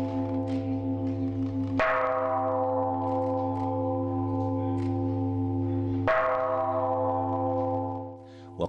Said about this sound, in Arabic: وقد قرعت أجراس السلام احتفاء بهذه المناسبة.